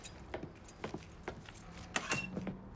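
In the video game Mafia 3, a set of keys jangles in a quick series of faint metallic clinks and rattles, close and with no voices.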